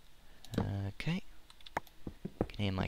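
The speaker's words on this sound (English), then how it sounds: "Can hear my clicking going on." Computer keyboard and mouse clicks sound during a Minecraft session, a few sharp taps scattered under a person talking close to the microphone.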